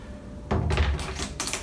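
A plastic locker door being fitted into a fibreglass boat locker during a restoration, giving a few close knocks and clattering bumps in quick succession, with no talking.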